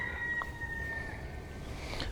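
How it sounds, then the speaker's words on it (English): A rooster crows in the distance at Taitua Arboretum, one drawn-out cock-a-doodle-doo rising faintly over a quiet outdoor background. "If you're wondering about the roosters in the background"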